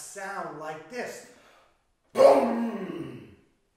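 Voice-made imitation of a rifle shot told within a children's story: a sudden loud burst of breathy noise after a short pause, following a stretch of speech.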